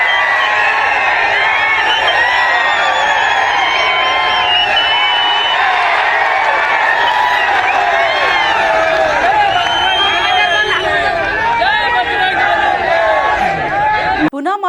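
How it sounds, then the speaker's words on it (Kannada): Thousands of protesters at a rally against the Waqf in Kalaburagi chant Jai Shri Ram, clap and whistle, making a loud, dense, unbroken crowd roar that fills the whole stretch. "ಜಮಾಯಿಸಿದ್ದ ಸಾವಿರಾರು ಜನರು ಜೈ ಶ್ರೀರಾಮ್ ಘೋಷಣೆ ಮಾಡುತ್ತಾ ಚಪ್ಪಾಳೆ ಹೊಡೆಯುತ್ತಾ ಶಿಳ್ಳೆ ಹೊಡೆದು ನಮಸ್ಕರಿಸಿದರು"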